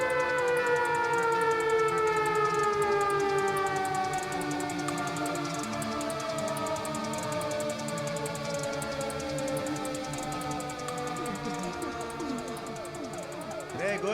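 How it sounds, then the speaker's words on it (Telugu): A warning siren in a film scene wails continuously, its rising and falling tones loud and sustained for the whole stretch, with a voice briefly audible. "సైరన్?"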